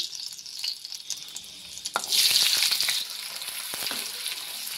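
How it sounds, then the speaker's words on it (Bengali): Chopped onions hit hot mustard oil with a sudden loud sizzle that settles into steady frying crackle, with a few scraping stirs. "সরষের তেল গরম হয়ে গেছে। এখন দিয়ে দিচ্ছি 1 মুঠো কুচি করে রাখা পেঁয়াজ।"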